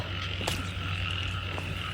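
A frog held in the hand at night while out frog hunting near a cemetery lets out a few short croaks over a steady drone of insects and background noise.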